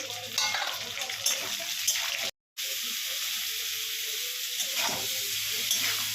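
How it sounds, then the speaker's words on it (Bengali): Green chillies and browned potatoes frying in hot oil, a steady hiss of sizzling with soft stirring, broken by a brief silent cut midway before the frying resumes. "আমি এখন এবারে কাঁচা লঙ্কাগুলো দিয়ে দেবো।"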